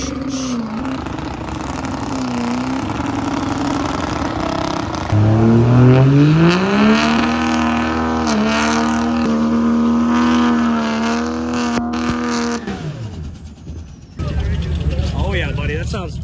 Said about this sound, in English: Do another burnout!